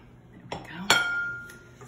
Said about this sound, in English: Stir, get all that flour from the side.